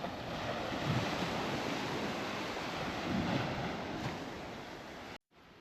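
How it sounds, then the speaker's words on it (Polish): Mediterranean Sea waves wash along the coast of Crete near Heraklion in a steady, soft roar of surf mixed with wind rumble on the microphone, faint swells rising twice, then a sudden cutoff just before the end. "Morze Śródziemne w pełnej okazałości."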